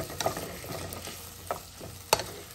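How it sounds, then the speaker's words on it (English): Tomatoes for chicken Chettinad cook in a pan with a soft, steady sizzle, and a spoon scrapes and stirs against the pan in a few brief strokes, one sharper clack near the end. "So now cook this until tomato becomes soft."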